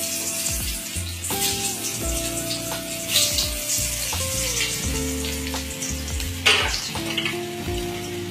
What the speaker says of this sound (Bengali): তো আলুগুলো এবার ভেজে নেবো চিকেনের জন্য।